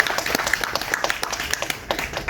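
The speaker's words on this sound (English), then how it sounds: "Please give a round of applause for that." Applause from an audience at a film festival screening event, a fairly sparse round of clapping with distinct individual claps standing out, moderately close and steady across the moment.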